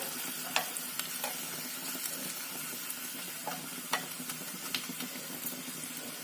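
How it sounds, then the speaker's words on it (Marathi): A tempering of spices, with asafoetida and a pinch of turmeric, sizzles softly in hot oil for moong dal, with faint continuous crackle and occasional sharp clicks of stirring against the pan. "फोडणी छान कुरकुरीत होऊ द्यायचं"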